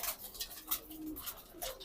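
Racing pigeons coo quietly in a loft, soft overlapping low calls repeating against a faint, hissy background.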